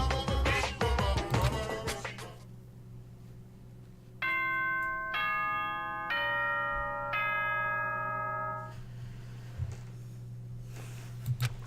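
A descending four-note announcement chime rings out in Danganronpa Trigger Happy Havoc, each bright bell-like tone stepping lower over a low steady background hum, preceded by a brief burst of music.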